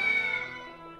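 A cat meows once in the game Schroedinger no Neko: a short, clear, tonal call that fades away within a second, heard alone and fairly soft.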